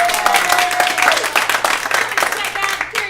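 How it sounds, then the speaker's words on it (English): A comedy theater audience applauds, close dense clapping with scattered cheers over a room crowd, starting under a voice and fading slightly toward the end. "Give yourselves a round of applause."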